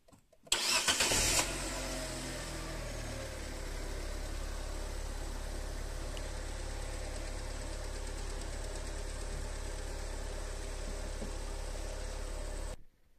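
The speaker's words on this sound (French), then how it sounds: "ça devrait démarrer au quart de poil puisque la batterie est neuve" A Fiat 500 with a freshly replaced battery cranks briefly and catches, then settles into a steady, close idle that runs on alone for about eleven seconds before cutting off.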